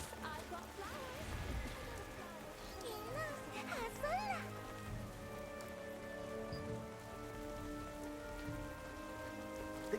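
Steady rain patters across the ground in the fantasy world of Throne and Liberty, a constant wash of drops beneath layered music and game ambience, with brief melodic chimes and a voice speaking early on.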